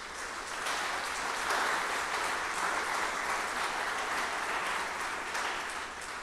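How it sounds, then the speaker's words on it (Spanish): A church congregation applauds during a Spanish-language sermon, giving steady, sustained clapping that stays fairly soft and distant for about six seconds with no voices over it. "De un aplauso al Señor por eso."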